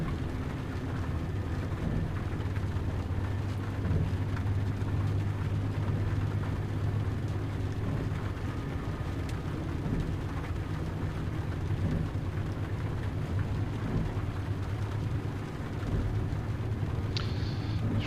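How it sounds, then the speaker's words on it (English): Steady rain and low rumbling thunder from a stormy Prague setting in the Train Life railway simulator game, a continuous dense wash with deep rolling rumble underneath, moderately loud throughout with no talking. "This rain's been relentless."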